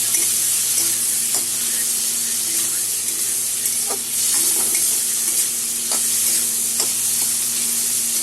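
Chopped large tomato cooking with a little salt in a pan sizzles steadily and loudly throughout, with faint utensil clicks and scrapes as it is stirred.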